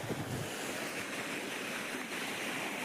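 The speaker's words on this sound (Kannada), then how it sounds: "ನೋಡಿ ಹೆಂಗ್ ಹರಿತಿದೆ ನೀರು." Rushing river water flows steadily past a riverside Shiva temple in a village, making a continuous broadband roar with no voices.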